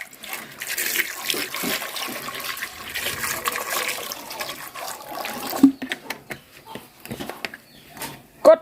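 Brine for salted eggs poured into a container at home, giving a steady splashing, trickling stream for about five seconds, then a few short knocks and clatters close by.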